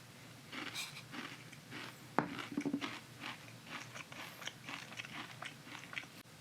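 Crunchy MRE granola eaten dry, with close, quiet bites and a run of crisp chewing crunches, the sharpest bite about two seconds in.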